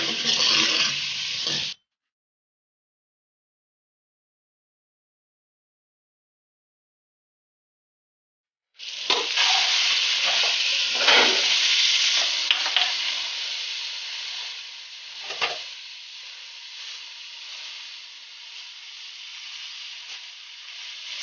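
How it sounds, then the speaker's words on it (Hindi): Spices and mixed vegetables fried in a pan, a loud hissing sizzle near the start, then a long gap of silence, then a sustained steamy sizzle with occasional stirring knocks. "मसाले को अच्छी तरह से भून लेंगे"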